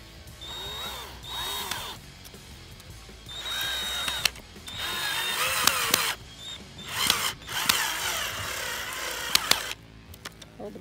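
Power drill driving screws during assembly of an outdoor daybed, in repeated whirring bursts of a few seconds each with brief ratcheting clicks and gaps between them, close and fairly loud.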